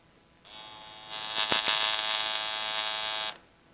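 A vintage Toro tractor engine cranks on its starter, a steady electric whirring whine that jumps louder after a moment and runs for about three seconds without catching, then cuts off.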